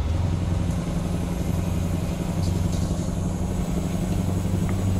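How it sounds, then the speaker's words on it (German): A Mack MH613 truck engine runs steadily in American Truck Simulator, giving a continuous deep, throbbing drone with a low rumbling pulse. It plays alone at an even, fairly loud level. "Aber der Motor ist ein Traum. 400 PS das Ding."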